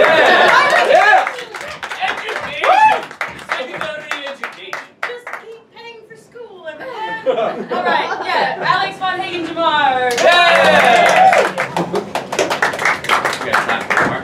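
An audience claps in scattered bursts at an improv comedy show, the claps thinning out in the middle while people talk and cheer over them before the clapping swells again.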